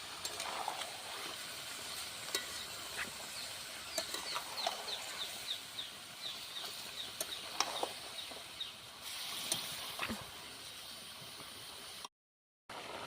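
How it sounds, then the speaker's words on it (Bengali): Green chillies sizzling softly in a pan while being stirred, a quiet continuous frying hiss with scattered small clicks and scrapes, cutting out briefly near the end. "দিয়ে দিচ্ছি পেরা লঙ্কা এটাকে ভালোভাবে আমি নাড়তে থাকি"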